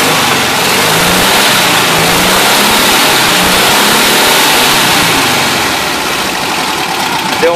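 A 1966 Volkswagen Beetle 1200 air-cooled engine idling with a valve ticking and a blown exhaust, producing a loud, continuous close-up rattle with dense hissy noise and no speech.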